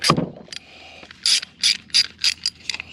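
A ratchet wrench loosens a tight tailgate bolt on a Ford F-Series pickup truck, with one sharp initial crack followed by a rhythmic run of about six close, loud clicking ratchet strokes.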